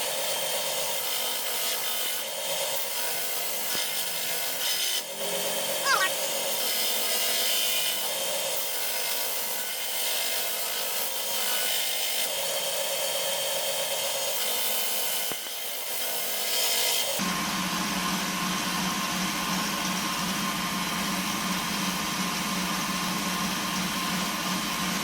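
Abrasive grinding of steel on a hunting knife blade against a coarse 40 grit belt or stone, a steady dense rasping that runs continuously and close, shifting to a fuller, rougher tone partway through, with no talking.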